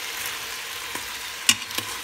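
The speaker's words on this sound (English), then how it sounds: "we're going to continue to mix and saute the vegetables" Vegetables sauté in the hot pot of an Instant Pot, a steady broadband sizzle running throughout, with a few light clicks and scrapes of a spoon stirring, close and moderately loud, no voices.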